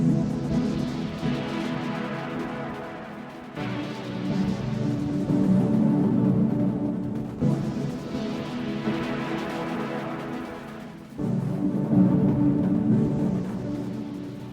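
Sound from the Delay Troll delay plugin with its maximum delay time modulated. A tonal phrase repeats in roughly four-second cycles, and quieter echo tails smear and shift in pitch between the repeats. No one speaks.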